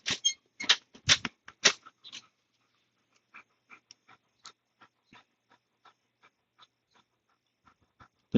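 Luna, a large gentle guard dog, pants in quick rhythmic breaths: a loud burst of close, raspy huffs at first, then softer, evenly spaced breaths that trail off before one more sharp puff.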